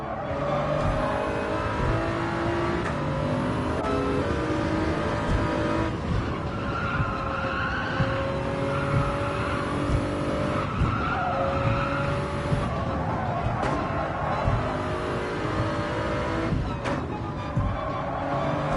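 Toyota GR3 Supra race car in Gran Turismo lapping Tokyo South counterclockwise, its engine note rising and dropping through shifts with long tire squeals and skids, loud and continuous, with no talk.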